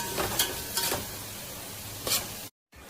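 Onion sautéing in a pan until golden gives a steady broadband sizzle, with a few louder scrapes of stirring rising over it, close by, and a brief cut to silence near the end.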